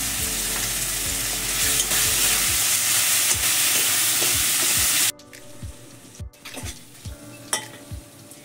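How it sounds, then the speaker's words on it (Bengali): Ginger-garlic paste hits a pan of fried tomatoes and onions for a pomfret curry. A loud, dense sizzle with stirring clicks drops off sharply midway, leaving quieter scattered scrapes and taps. "এখন দিয়ে দিচ্ছি আদা রসুন বাটা।"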